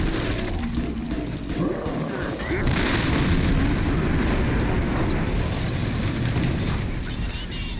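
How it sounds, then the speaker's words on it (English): Enemies blowing up in the shooter game Killing Floor 2, heavy booming blasts and rumbling gunfire that continue throughout, loud and dense, with a player talking over the noise. "Shoot the fire dudes in the back. They explode."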